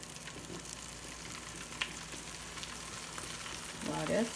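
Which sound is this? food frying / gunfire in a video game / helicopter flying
food frying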